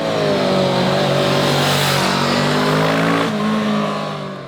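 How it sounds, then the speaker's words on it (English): A Kawasaki Vulcan S motorcycle engine revs hard toward its top end, a loud, close, steady rising drone that eases off near the end. "The Vulcan S is a nice sounding motorcycle, and as you push it to its top end,"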